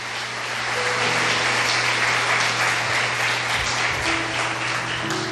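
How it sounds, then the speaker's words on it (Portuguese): A church congregation applauds at a worship service, sustained crowded clapping that swells and stays full throughout, with a low steady hum running underneath. "Diga amém, dê um aplauso ao Senhor."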